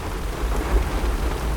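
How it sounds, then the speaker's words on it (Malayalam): Heavy rain pours down steadily outdoors beside a closed shop while low thunder rumbles underneath, loud and continuous, with no one speaking. "നല്ല ബെസ്റ്റ് ടൈം, കൊല മഴ."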